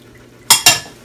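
A spoon stirs pork ribs caldereta with pineapple juice and water in a cooking pot, giving two quick, loud scraping clanks about a sixth of a second apart against a quiet kitchen background.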